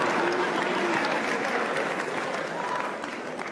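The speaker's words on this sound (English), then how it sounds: "What are applauding for?" Sustained clapping from a large audience applauding Kenyan President William Ruto, thick and steady throughout, easing very slightly toward the end, with no voices rising above it.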